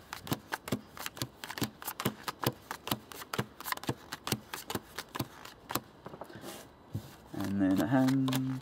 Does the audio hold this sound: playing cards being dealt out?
yes